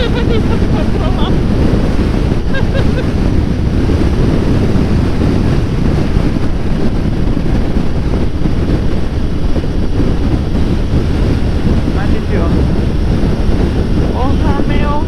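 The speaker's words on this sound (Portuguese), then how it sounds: "o vento tá animal" Strong wind buffets the microphone on a motorcycle ride along Ruta 40 in Patagonia, a loud, continuous low roar that never lets up, with faint voices under the rumble.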